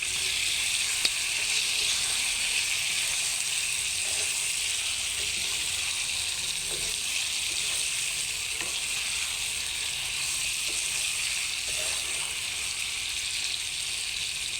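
Meat frying in a pan with its own fat rendering out as oil, a steady close bright sizzle running unbroken throughout with a few faint clinks, no talking.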